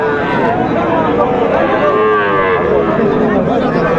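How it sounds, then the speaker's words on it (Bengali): Young bull calves low at the busy Ambari cattle market in Dinajpur, with drawn-out moos running under constant crowd chatter and market bustle. "ছোট ছোট ষাঁড় বাচ্চা আমরা দেখছিলাম এখানে"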